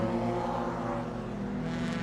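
A small Daihatsu Charade race car runs at a Cairns speedway during a Super Street Sedans heat, its engine a steady, droning roar that holds at a constant pitch.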